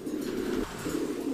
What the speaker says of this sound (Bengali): এটা কালো লাহোরি কবুতর ভাই।